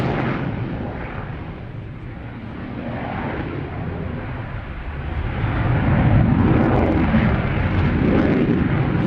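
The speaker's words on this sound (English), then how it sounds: "Our very latest F-18 Super Hornet." An F-18 Super Hornet jet performs at an airshow with a loud, broad roar that swells toward the end as it passes, with no talk.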